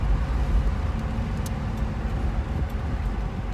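A car with an LTXD engine and 6L80E transmission slows down with its torque converter unlocked, heard as a loud, steady low engine drone and road rumble from inside the cabin.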